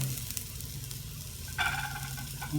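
Onions sautéing in coconut oil in a pan for a kappa mutta biriyani, a steady close sizzle and frying hiss with a brief stir or scrape partway through.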